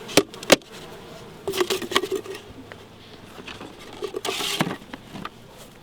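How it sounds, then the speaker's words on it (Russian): Honey bees are tipped from a hive feeder into the hive during winter feeding, giving a low buzzing hum under sharp knocks, scrapes and a rustling patter as the insects tumble out, close and uneven. "пчелок высыпаем сюда, чтобы они быстрее начинали"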